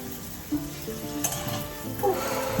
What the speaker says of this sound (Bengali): আর আমি এখানে লুচিটা ভাজছি